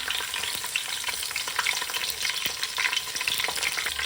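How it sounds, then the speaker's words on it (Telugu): Cumin seeds and green chillies frying in hot oil for a chicken curry, a steady, dense crackling sizzle with faint stirring scrapes throughout, close and with no talking. "ఆయిల్ కొంచెం వేడెక్కాక జీలకర్ర వేసుకుందాం. జీలకర్ర, పచ్చిమిర్చి,"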